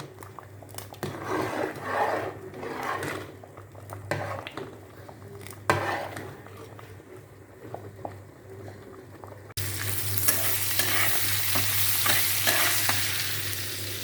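Pointed gourd (potol) frying in oil in a pan, a steady close sizzle with stirring scrapes, growing louder and denser toward the end.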